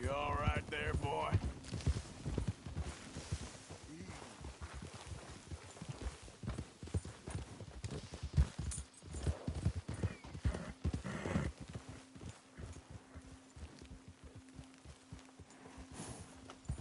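Horse hooves clip-clopping in Red Dead Redemption 2, irregular steps close by with an occasional whinny, while characters talk over them and the footfalls fade and return.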